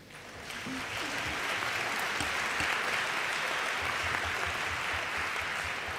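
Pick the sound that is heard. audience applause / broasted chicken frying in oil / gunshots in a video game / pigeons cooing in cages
audience applause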